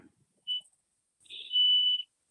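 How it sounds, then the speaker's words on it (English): Two electronic beeps, a short one followed after a pause by a longer sustained tone, fairly faint in otherwise quiet surroundings. "I hear some beeping in the background."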